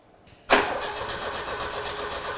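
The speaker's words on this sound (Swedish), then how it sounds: "Ja, men det är en Opel den startar." An Opel car engine cranks and catches with a sharp onset, then settles into a steady, close idle. No one talks over it.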